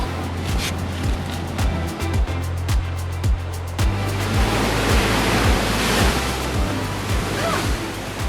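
Ocean surf at Diamond Beach on Nusa Penida, Bali, rolls in as a loud, steady wash that swells toward the end, with rhythmic thumps and rustling close to the microphone.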